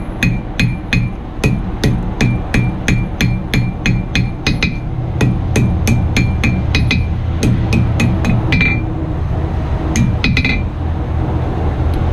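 Repeated hammer blows ring out on steel during knife forging at a blacksmith shop, a steady run of sharp metallic clinks over a constant low roar of background noise, pausing briefly near the end.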